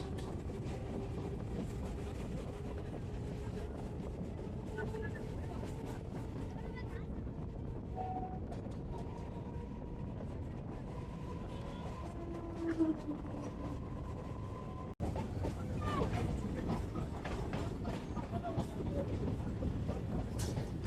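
A local train running between Sonarpur and Lakshmikantapur in West Bengal, heard from inside with a steady loud rumble of wheels on track, a brief jolt near the middle and a rising rattle toward the end.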